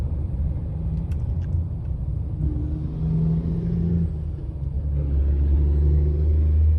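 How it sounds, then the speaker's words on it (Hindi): Heavy road traffic near a motorway, with large trucks and smaller vehicles passing. It forms a steady, loud, low rumble of engines and tyres that swells as heavier vehicles go by, with no voices. "बड़े ट्रक भी हैं, छोटे भी हैं, और ट्रैफिक बहुत ज़्यादा है"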